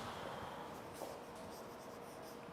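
Pen or marker writing a word on a board during an English lesson, soft scratchy strokes over a steady room hiss, faint and continuous with no talking.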